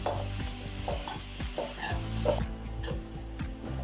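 Onions fry in a pan with steady close sizzling while a utensil stirs and scrapes in a regular rhythm.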